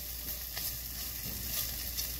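Miso with onions and garlic sizzling in a pan for miso soup as it is stirred, a steady hiss of frying with occasional faint scraping and clicks from the stirring, close and even throughout.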